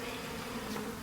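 Agitated honeybees from a queenless colony buzz in a dense, continuous drone close by during a residential cutout.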